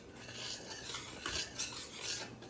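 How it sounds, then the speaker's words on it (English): A rubber spatula scrapes the sides of a bowl of Depression-era wacky cake batter, making soft, continuous rasping strokes up close. "And I always like a rubber spatula, so we're going to go ahead and scrape the sides here a little bit to get everything mixed in the middle."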